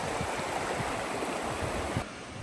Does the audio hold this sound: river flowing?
yes